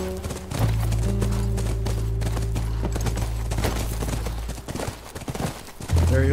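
Steady clip-clop of horse hooves in The Last of Us video game, near a ranch, with a low sustained musical drone and some faint voices underneath.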